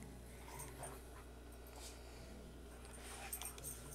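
Dogs in the video game Cozy Grove pant and scuffle while rough housing. A faint, continuous panting with small yips sits low under a steady background hum.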